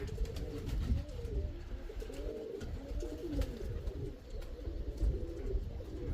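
Flying pigeons in a loft on a hot day, cooing in a continuous overlapping chorus of low, throaty, rolling calls close by, with scattered soft wing flutters and clicks.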